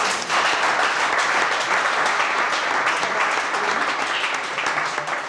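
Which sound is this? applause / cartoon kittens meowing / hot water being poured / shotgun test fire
applause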